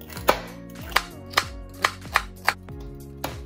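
Celery being chopped on a cutting board for meatloaf, seven crisp knife strikes landing at a steady, slightly uneven pace, close and alone without talk.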